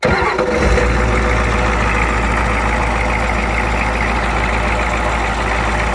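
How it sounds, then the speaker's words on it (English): A Ford 6.9 IDI diesel truck engine cranks and catches, then settles into a loud, steady rumbling idle with a low throb running to the end. "Truck is running, guys."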